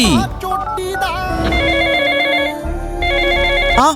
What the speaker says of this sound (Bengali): আমি ভাইকে ফোন দিচ্ছি